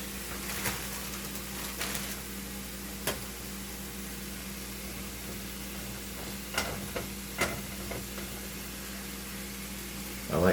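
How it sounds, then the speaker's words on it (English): Two pounds of ground beef and a pound of sausage sizzle in a Crockpot Express for chili, a steady soft frying hiss broken by occasional stirring clicks. "And you can hear the sizzle."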